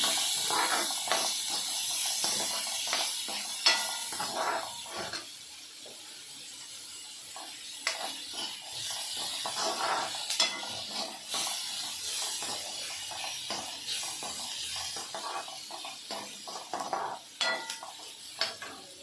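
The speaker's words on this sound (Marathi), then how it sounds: "तेल तापलेलं आहे माझं आता आपण कांदा टाकून घेणार आहोत कांदा टाकला आहे आता तो लाल होईपर्यंत भाजायचा आहे" Chopped onion frying in hot oil for a spicy cluster-bean curry, a continuous sizzle with scattered crackles and occasional clinks of a spoon against the pan.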